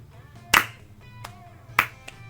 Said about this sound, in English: You're still clapping? Yep, still clapping. Kind of sad claps.